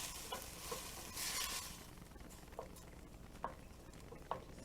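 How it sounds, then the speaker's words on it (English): Vegetarian chili ingredients sautéing in a pan, a faint soft sizzle with a few scraping stirs and small clinks from a utensil. "Stir it around a bit, let it saute."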